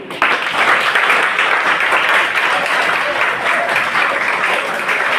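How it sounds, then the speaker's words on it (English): A classroom of students applauds together after a quiz test, with dense, steady clapping that stays loud and continuous throughout, no talking over it. "you all should clap for your own self and your team"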